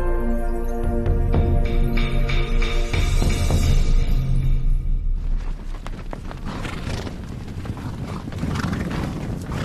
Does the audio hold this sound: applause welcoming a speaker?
no